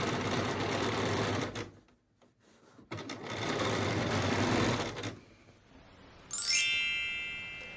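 A sewing machine understitches the facing of a Ray pinafore dress, whirring loudly in two sustained runs split by a short pause, then a bright metallic jingle near the end; no one speaks.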